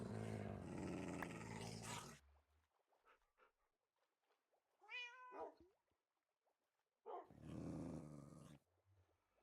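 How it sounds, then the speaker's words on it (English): Dogs growl in Minecraft, with a short cluster of snarling, whiny animal noises in between louder bursts of sound, surrounded by quieter stretches. "Oh my god, the dogs."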